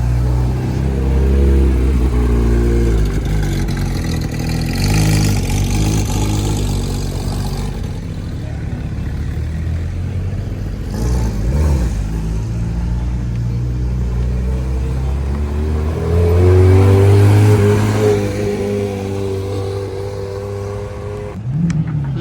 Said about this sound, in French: La 3RS du Qatar avec les échappements pas du tout d'origine